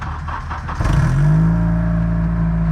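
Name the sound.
derby car engine running after a jump start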